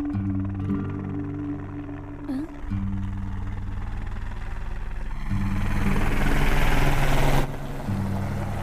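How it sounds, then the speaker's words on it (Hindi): A helicopter drones steadily with a low rotor thump that rises to a louder pass before easing off, and people talk over it. "भैया वो देखो हेलीकॉप्टर।"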